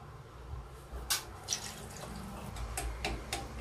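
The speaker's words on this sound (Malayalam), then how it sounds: "ഈ വെള്ളം കൂടി ഒഴിച്ചു കൊടുക്കാം" Water poured into a pot of taro stem curry, a soft running splash with a few brief bright spurts and clinks over a low background hum, faint and without speech.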